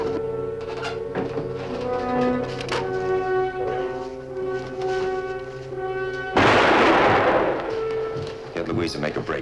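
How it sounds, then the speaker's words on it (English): Gunfire erupts in a western TV series shootout: a sudden loud crack and a noisy burst break in late, over a steady musical score and voices. "Please tell me why those men are shooting."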